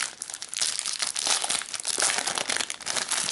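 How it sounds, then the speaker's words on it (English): A transparent plastic bag crinkles continuously and close up while a Fintie iPad Mini keyboard case is unboxed, with dense, rapid crackling throughout and no talking. "it comes in this transparent plastic bag"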